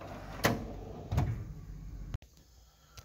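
A metal drawer on a small engine repair tool box slides and knocks shut with a couple of close clunks, followed by a quieter rattle.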